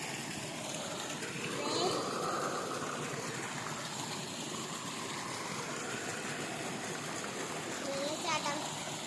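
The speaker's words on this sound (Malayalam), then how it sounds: "വെള്ളച്ചാട്ടം" Steady broadband rush of a waterfall at a scenic spot, continuous and moderately loud throughout, with faint splashing and a brief voice-like sound mixed into the roar.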